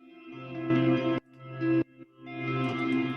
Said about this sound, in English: we're going to put a reverb directly on there. Just create some really cool atmosphere